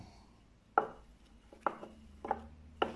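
Potting soil being tamped down into seed trays for melon and courgette sowing, four soft dull thuds spaced irregularly, close and quiet.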